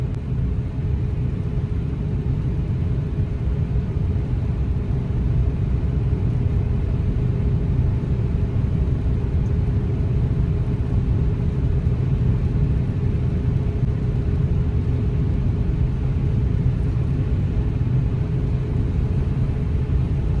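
A car climbs a hill on steady throttle without changing gears, a constant low engine hum and road rumble heard from inside the cabin, unbroken and even throughout.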